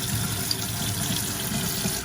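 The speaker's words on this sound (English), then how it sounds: "I just put some water now, and it just runs through" Water runs and trickles down a peel-and-stick 3D brick wall sticker, a steady close splashing wash lasting a couple of seconds with no voices.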